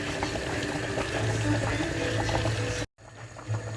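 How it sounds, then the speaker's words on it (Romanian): A potato and pork stew simmers in a pot, giving off a steady bubbling hiss that continues without letup, then breaks off abruptly and resumes more quietly. "O lăsăm să fiarbă, după cum v-am zis, circa 5-7 minute."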